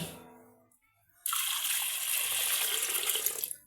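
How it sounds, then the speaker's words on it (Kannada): Water poured from a vessel into a pot of toor dal with chopped beetroot, a steady hissing splash that starts abruptly after a quiet moment and runs loud and continuous until cut off. "ಇದಕ್ಕೆ ನಾನು ನೀರನ್ನು ಸೇರಿಸ್ಕೊತಾ ಇದ್ದೀನಿ."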